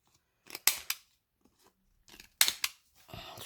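Scissors trimming the corners of a sheet of paper in a craft card project, giving two quick groups of crisp close snips separated by a pause, then a softer rustle of handling.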